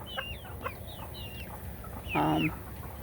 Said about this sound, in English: Older hen is picking on the babies.